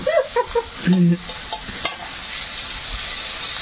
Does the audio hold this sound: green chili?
yes